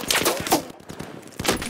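Magnum revolver shots from the video game Battlefield 4 (China Rising), a few sharp bursts with a loud crack near the start, another around the middle and a final one near the end, amid game noise.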